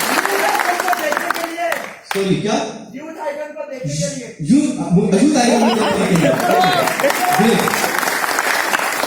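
Audience at a network marketing seminar bursts into applause and chatter with some laughter, clapping swelling around voices speaking over it, with a brief lull before the noise rises again.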